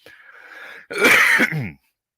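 A single harsh cough, close and loud, preceded by a brief throat-clearing rasp, then silence.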